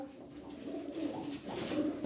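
Pigeons coo in a pet-bird sale setting, soft repeated throaty coos overlapping in a steady, close murmur with no voices.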